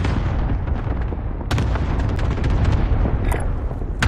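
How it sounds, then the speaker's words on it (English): Airstrike explosions in a Call of Duty match land as a rolling barrage of loud booms with sharp cracking bursts, sustained and close. "There's another airstrike."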